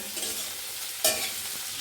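Onions sprinkled with salt fry in hot oil in a pan, giving a soft close sizzle with stirring scrapes and one brief louder burst of crackle partway through.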